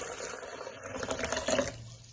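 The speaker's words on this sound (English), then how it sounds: "just want to go ahead and add a small amount of water" A small amount of water poured from a tap into a turtle egg punch mixture with vanilla extract: a close, steady splashing trickle lasting about two seconds, then tapering off.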